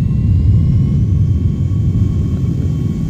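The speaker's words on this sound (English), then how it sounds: "Sounds like our plane's taking off." Steady low jet-engine rumble of an airliner taking off in the Airport Sim video game, a dense continuous roar with faint high tonal whine, fairly loud and unchanging throughout.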